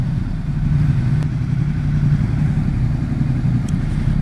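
A Ducati XDiavel S motorcycle with an L-twin engine is ridden along, giving a steady low, throbbing engine drone mixed with wind rush, close and continuous throughout.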